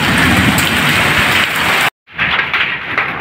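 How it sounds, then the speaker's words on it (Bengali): Heavy rain pours down steadily and loudly during a Kalbaishakhi storm, a dense continuous wash broken by a brief complete dropout before the downpour resumes. "বৃষ্টিটা পায়া আর লোভ সামলাইতে পারলাম না, নাইমা গেলাম বৃষ্টিতে ভিজতে"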